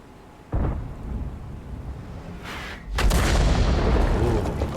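A tank cannon firing a blind shot in a tank video game, a sharp boom followed later by a heavier, louder blast that rumbles on to the end.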